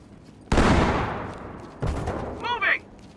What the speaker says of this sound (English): Blast it with a shotgun.